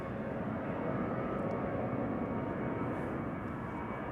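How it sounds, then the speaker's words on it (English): A KLM passenger jet begins its takeoff roll at Schiphol on a morning departure, a steady, broad engine roar that holds constant and fairly distant, with no voices. "KLM flight 1293 to Billund has begun rolling"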